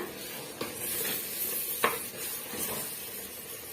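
Chicken masala gravy being stirred in a pan, a soft continuous scraping and faint sizzle with a few sharper clinks of the spoon against the metal, close and fairly quiet.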